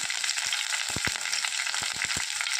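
Curry leaves and chopped green chilies fry in hot oil for a dal curry, a dense close sizzle running throughout, broken by several quick low thumps and taps from stirring, with no speech.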